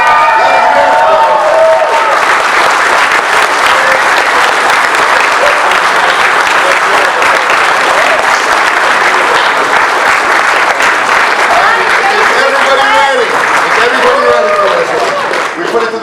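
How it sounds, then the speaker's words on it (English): A standing audience applauds and cheers two guests, actors William Zabka and Martin Kove, at a Cobra Kai event; dense, loud clapping with whoops fills the whole stretch, with crowd voices mixed in. "how about everybody just stand up and give the applause to these 2 gentlemen"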